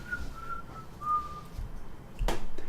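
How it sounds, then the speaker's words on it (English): A person whistles a few soft, sustained notes alone in a quiet room, followed by a brief thump at the end. "Just too good at whistling."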